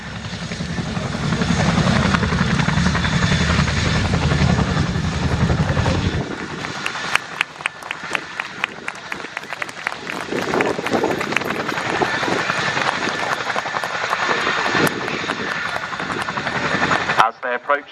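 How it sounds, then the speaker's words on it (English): A Chinook twin-rotor helicopter manoeuvres at an air show, a loud continuous rotor chop and turbine roar with low rumble that shifts partway through, while a commentator talks over it. "those of you on the right-hand side of the crowd will get to see a Chinook party piece"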